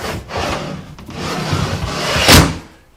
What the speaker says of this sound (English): Now let's slide our drawer guide in, our drawer in, our rollout shelf, I should say.